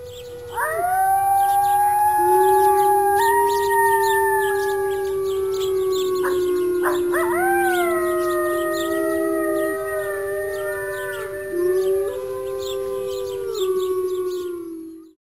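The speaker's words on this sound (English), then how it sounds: "Wolf." A wolf howls in long, sustained, wavering tones, with a second howling voice rising alongside it. The howls are loud and continuous for about fifteen seconds.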